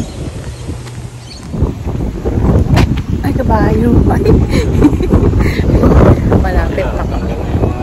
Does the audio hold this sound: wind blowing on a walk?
yes